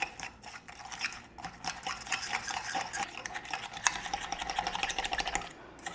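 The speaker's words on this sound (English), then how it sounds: "And then we're going to mix this until it's creamy." Butter and brown sugar being mixed until creamy in a bowl, a continuous rapid rhythmic scraping and whirring of the mixing that carries on steadily for several seconds, close and fairly loud.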